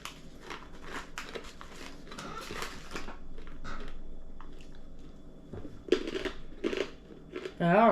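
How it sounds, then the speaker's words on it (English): Crunchy Hungarian peanut snacks with onion and sour cream flavouring being chewed close up, with soft crunches and bites in short bursts between stretches of talking. "They are a bit crunchy."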